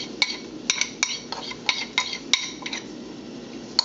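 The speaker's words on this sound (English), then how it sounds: "I'm just scraping some extra butter out of here" Metal utensil scraping and clinking against a pan as extra butter is scraped out while making tortillas, a series of sharp irregular taps and scrapes, close and moderately loud with no talk.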